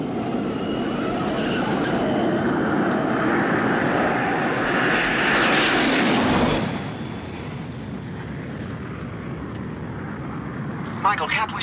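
A loud ramjet engine roars, building and swelling before cutting down to a lower rumble as voices speak over the noise.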